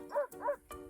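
A dog lets out three quick, close yips or barks in fast succession, each short and sharp, with quiet gaps between them.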